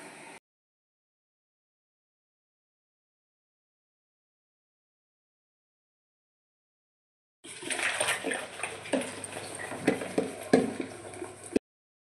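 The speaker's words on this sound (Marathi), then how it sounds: "हलवत राहायचं चांगलं।" Milk being stirred in a pot while making basundi gives a close, wet sloshing and splashing that lasts about four seconds after a long stretch of silence, then cuts off abruptly.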